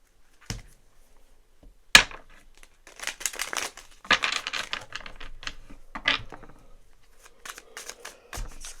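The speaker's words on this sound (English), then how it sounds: "I feel like pulling some of these cards to clarify a little bit deeper." Tarot cards being pulled and shuffled close up, with a scattered run of papery flicks, slides and crisp snaps in quiet surroundings.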